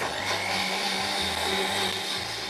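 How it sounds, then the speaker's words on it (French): A blender mixes milk and grated coconut at medium speed, giving a steady, loud, close whirring drone with slight pulsing, alone without talk. "On va mixer à lui environ 30 secondes à vitesse moyenne"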